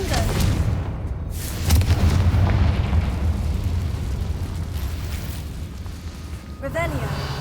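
A Confringo fire spell goes off in Hogwarts Legacy as a loud, rumbling blast with a sustained boom near the start, followed by crackling debris and game ambience, while a voice speaks over it.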